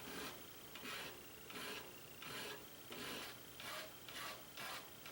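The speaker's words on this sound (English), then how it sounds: "Then I go with a half-round file and start rounding out the finger grip areas." A half-round file rasps at the finger grip areas of a steel push dagger made from an old file, in about eight short, even strokes with quiet gaps between them, soft and close.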